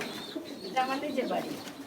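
Pigeons coo on a large pigeon farm, a couple of short nearby calls heard faintly beneath a person's speech.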